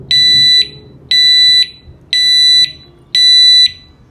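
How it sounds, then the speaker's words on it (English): Veison DX19 V2 motorcycle disc lock alarm sounding a warning, four loud, piercing electronic beeps of equal length in a steady rhythm about a second apart, close by, with no talk. "And you touch it, it will give you a warning beep."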